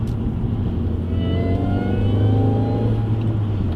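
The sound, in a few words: Mini engine supercharger with Orranje cold air intake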